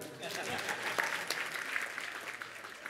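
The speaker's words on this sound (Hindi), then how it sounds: "बजाओ ताली।" An audience at a Hindi religious discourse breaks into sustained applause, a dense, steady patter of many hands clapping throughout.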